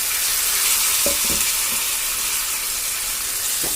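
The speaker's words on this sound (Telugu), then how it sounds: "వీటిని కూడా బాగా ఫ్రై చేసుకోవాలి" Chickpeas fry in hot oil with tempering spices for a homemade street-food snack, producing a loud, dense, continuous sizzle up close with a few brief stirring knocks partway through.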